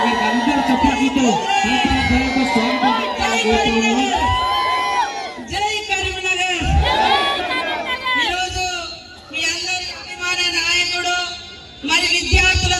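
Crowd applauding and cheering for minister Seethakka at a Congress party MLC candidate's nomination rally, a loud, dense roar of claps and shouts that swells and dips over several seconds, with voices and babble mixed throughout.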